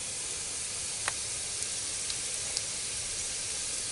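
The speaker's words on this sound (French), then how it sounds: "Je les fais bien revenir comme ma soupe à l'oignon." Onions sautéing in a pan in a camper van kitchen give a steady, close, broadband sizzle that holds evenly throughout, with a few tiny pops and crackles and no talk.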